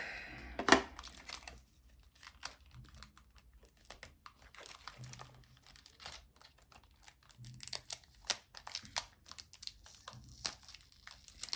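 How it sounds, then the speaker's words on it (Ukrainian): Adhesive tape peels away together with a label in short, crinkly tearing bursts. A sharp rip comes first, then softer scattered crackles and rustles follow close up and fairly quiet. "сходить скотч разом з етикеткою"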